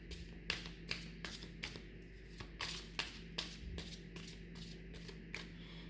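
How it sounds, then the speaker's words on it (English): Tarot cards are shuffled by hand in a quick series of crisp riffling slaps and taps, close and fairly soft, with no voice over them. "so now let's just clear the cards."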